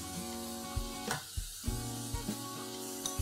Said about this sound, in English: Saute this for a few seconds.